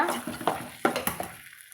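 Pulungal rice dough for pidi kara kozhukattai stirred in a hot pan, with soft scraping strokes and a faint sizzle, a few light spoon knocks, fading to quiet at the end.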